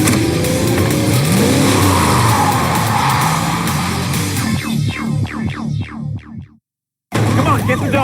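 A car engine revs and accelerates hard during a chase, loud and close with tyre noise, the roar dropping away into sudden silence before returning abruptly.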